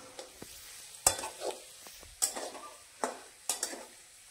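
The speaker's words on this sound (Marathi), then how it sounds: "तुम्ही बघू शकता मी कांदा परततोय" Onions sauté quietly in a pan, a soft sizzle broken by several distinct scraping stirs and clinks of a spatula against the metal, spaced a second or so apart.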